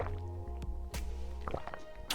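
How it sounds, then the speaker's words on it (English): Someone takes sips of water from a bottle, giving wet drips, small squishes and swallowing clicks over a steady low hum, with no talking. "Give me a sip of water."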